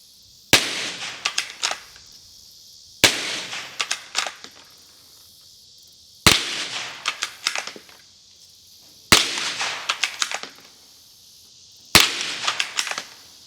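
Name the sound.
gunshots from a .22 rifle with open sights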